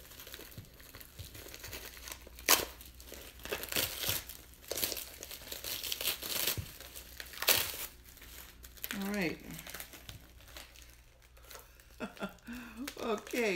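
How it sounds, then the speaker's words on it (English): A plastic bag crinkles and tears as it is cut off a resin bowl, giving soft scattered rustles and sharp crackling bursts close by at low volume, while a person talks quietly. "I'm just going to cut the bag off at this point because, well, it is separating"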